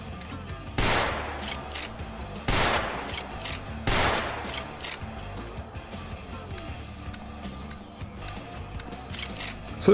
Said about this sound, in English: Next we have a couple of shotgun mods, like the Handmade lever action shotgun.